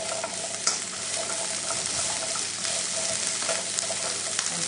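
Asparagus hits a hot pan of chicken stir fry, setting off a loud, steady sizzle with occasional sharp crackles and stirring clinks throughout.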